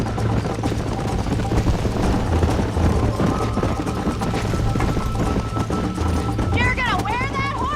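Horses gallop at full speed during a race in Red Dead Redemption, a steady rapid drumming of hooves running continuously and loudly under music and ambient game sound, with no pause.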